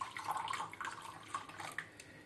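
Lukewarm water poured into a container to activate yeast for basic pizza dough, a soft, quiet trickle of running liquid lasting a couple of seconds with no talking.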